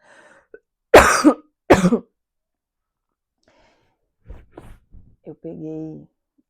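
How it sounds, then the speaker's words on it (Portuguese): Two sharp, close coughs come in quick succession from someone with a flu. A pause follows, then brief talking. "eu tossi e eu vou tossir de novo"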